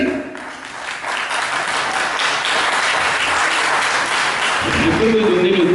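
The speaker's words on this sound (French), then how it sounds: "Faites-nous grâce de vos acclamations et de vos Alléluia" Audience applause and cheering at a Christian–Muslim debate, a broad sustained wash of clapping with crowd voices rising near the end and speech heard underneath.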